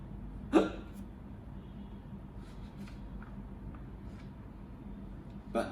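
A couple of short hiccups, one sharp and clear near the start and a fainter one at the very end, set apart by a quiet stretch with low background hum and no talk.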